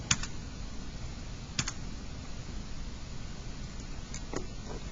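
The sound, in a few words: typing a number on a computer keyboard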